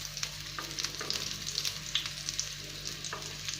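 Green chillies stuffed with fresh grated coconut shallow-fry in oil in a wok, giving a steady close sizzle dotted with small pops and crackles.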